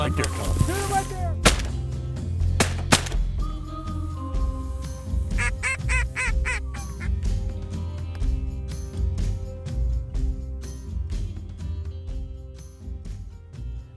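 Shotgun blasts during a duck hunt on a Nebraska slough: several sharp, loud shots in quick succession over honking geese and quacking ducks, with voices calling out in between.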